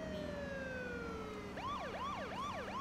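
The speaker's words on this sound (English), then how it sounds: "I'm just running away with my sirens on right now." A police car siren in the video game H1Z1 sweeps through a long falling wail and then switches to quick repeated yelps, loud and continuous with no speech over it.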